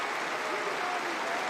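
A packed arena crowd cheers steadily at a Nebraska vs Kansas State women's college volleyball match near match point, a continuous roar of voices and clapping, loud and sustained.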